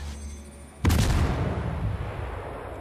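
A single heavy gun salvo from the Yugumo destroyer in a naval video game booms suddenly after a quiet stretch, then rolls off into a long fading rumble, loud and close, with no talking.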